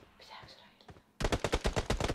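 Rapid bursts of gunfire in the mobile battle royale game PUBG Mobile, sharp loud shots in a fast irregular rhythm after a stretch of quiet ambient game noise.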